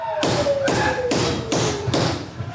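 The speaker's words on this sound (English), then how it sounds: "Who is that would knock on it to break down the gate?" A gate in a staged play is struck with five loud, heavy knocks at an even pace, each a booming thud that rings briefly, with no voices over them.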